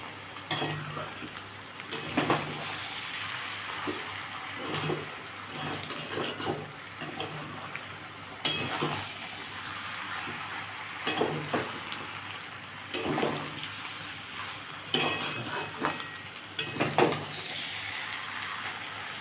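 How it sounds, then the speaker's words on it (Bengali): Four eggs fry in a pan while they are stirred, a steady close sizzle broken by repeated scrapes and clinks of a spoon against the pan. "দেখুন আমি চারটে ডিম এর মধ্যে দিয়ে দিয়েছি এবার এটা ভালো করে নেড়ে নেবো"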